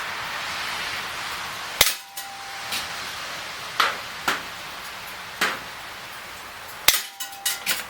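An Umarex Smith & Wesson M&P R8 CO2 BB revolver fires in double action outdoors: two sharp, loud cracks about five seconds apart, with fainter pops and clicks between them and a quick cluster of softer shots at the end.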